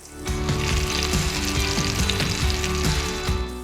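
Turkey meatballs browning in a hot pan make a loud, continuous, crackling sizzle with dense spatter throughout, heard alone without any talk.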